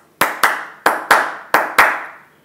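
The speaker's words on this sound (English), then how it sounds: "Anil claps" Six sharp hand claps in uneven pairs, loud and close, each with a short ringing tail, no voices.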